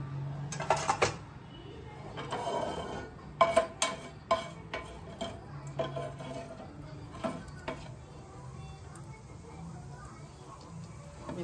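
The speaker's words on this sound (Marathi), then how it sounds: "लगेच तडतडायला लागलेलं आहे." Cumin and mustard seeds crackle and pop in hot oil in a pan, sharp irregular snaps over a low sizzle, with occasional clinks of a utensil against the pan, close and moderately loud.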